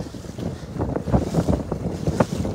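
Strong wind buffeting a microphone on a fishing boat at sea, gusty roaring bursts close up with waves and water motion underneath, no voices.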